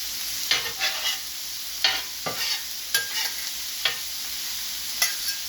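Peppers and onions turned with a metal spatula on a Steelmade steel griddle, a steady close sizzle broken by several sharp scraping strokes spaced about a second apart, no voices.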